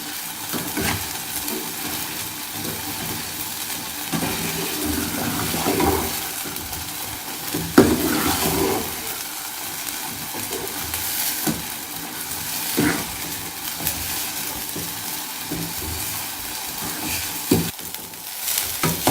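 Semolina halwa cooks in ghee in a pan, a soft continuous sizzle with scraping stir strokes at irregular intervals, close and fairly quiet, with no talking.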